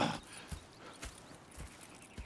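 Horses in the Red Dead Redemption 2 video game clip-clop with a few spaced hoof thuds and a short whinny at the start, moderately close over faint background ambience.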